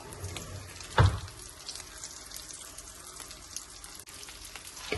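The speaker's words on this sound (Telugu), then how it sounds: "ముందు 1 స్పూన్ ఆయిల్లో కరివేపాకు వేపేసుకోవాలి" Curry leaves frying in a spoonful of oil with a pinch of asafoetida in a large pan, giving a steady soft crackle and sizzle with one louder splash-like burst early on.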